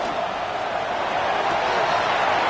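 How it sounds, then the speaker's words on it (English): Dense, steady roar of a packed American football stadium crowd building on a third-down play, loud and continuous with no single voice standing out. "This crowd into it now as we get to third down."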